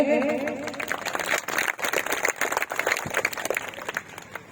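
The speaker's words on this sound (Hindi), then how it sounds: "भाई साहब को ताली बजा करके उद्बोधन दे" Scattered hand clapping from an audience at an Od community meeting in Indore, starting after a brief voice and continuing unevenly at moderate level, with voices mixed in.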